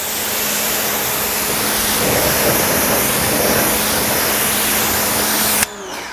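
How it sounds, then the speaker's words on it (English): A car tire and wheel rinsed with water: a loud, steady hiss of spray close up that runs for several seconds and then cuts off abruptly near the end. "I'm just gonna give it a quick rinse."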